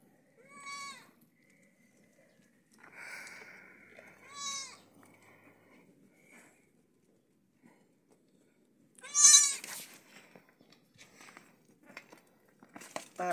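Goats and young kids bleat in separate calls, some near and loud, others fainter, scattered across quiet pauses on a farm.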